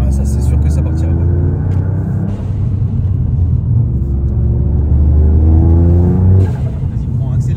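Car engine revving and accelerating from inside the cabin, a loud steady drone with rising harmonics that climb twice, under conversation between occupants.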